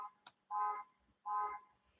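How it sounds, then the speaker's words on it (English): A car alarm sounds in steady repeating electronic tones, each lasting about a quarter second with short gaps, heard faintly from a distance outside. "that's somebody's car alarm going off"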